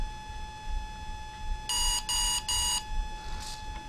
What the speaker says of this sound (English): I'm going to wait until it gets to 3 beeps.